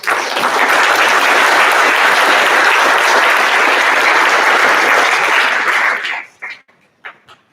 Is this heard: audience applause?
yes